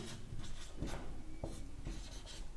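A pen writes out a maths solution on paper, producing close, continuous scratchy strokes with short pauses between words, faint and steady, with no voices.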